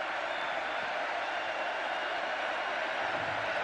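Crowd noise from a Baylor football home crowd on a third down in an evening game against Missouri, a steady, dense roar held throughout without letting up.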